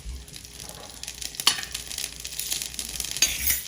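Cumin seeds sizzle in hot oil over low heat, a steady bright crackle with faint clinks of utensils, close and continuous with no talking.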